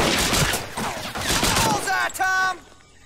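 Rapid gunfire rattles through a World War II video game battle, dense overlapping shots crackling close and loud while voices shout over it, ending with a sharp burst and a brief tail.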